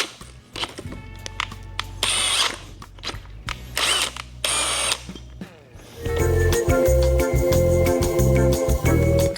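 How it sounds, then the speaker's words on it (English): A large power drill fitted with a Forstner bit bores into a log, whining in several short bursts with pauses, then settling into a longer, louder grinding cut. "We're gonna drill this as far as I can."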